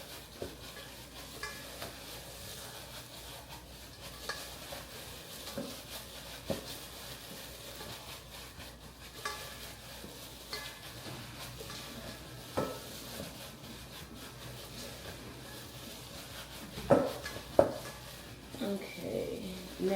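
Hamburger meat stirred and mixed in a pan, a steady low scraping and squishing texture with soft clinks from utensil against the pan, growing a little louder with sharper knocks near the end; no talking.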